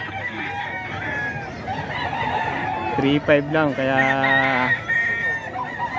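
A Thompson White gamefowl rooster crows once loudly and nearby, a drawn-out harmonic call, with other roosters crowing in the background and someone briefly speaking.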